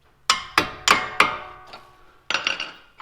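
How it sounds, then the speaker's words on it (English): A hammer gently tapping a front shock absorber bolt through on a 2003-2008 first-generation Honda Pilot: four sharp, ringing metallic strikes, then a quick cluster of lighter taps, close up and alone. "we're going to gently tap these through with a hammer"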